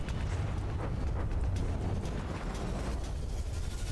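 A CRAM cannon on a battleship in the naval combat game From the Depths fires amid a steady, loud rumbling roar of explosions and engine noise, with low booms blending into continuous heavy background din.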